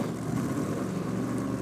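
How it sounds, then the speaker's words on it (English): Drag racing cars idle and rumble at a Top Fuel drag racing event, a steady, loud, broadband engine drone running without a break through the short stretch. "I can hear the next couple of cars fired up."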